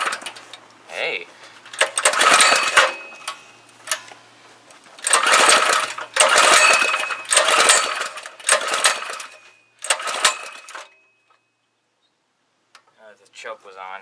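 A 212 small engine with its governor bypassed sputters and roars in several loud bursts, revving up and cutting out repeatedly, then falls quiet with faint rattling at the end.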